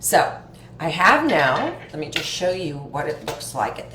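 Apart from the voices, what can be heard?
No distinct noise like a dog, phone or traffic.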